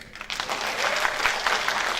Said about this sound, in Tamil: நம்ம வெயிட்டா அனிருத் ப்ரோக்கு சூப்பரா ஒரு கரகோஷம் கொடுங்க